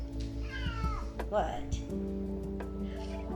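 A cat meows a few times close by, over a low steady hum, with a person talking at the same time.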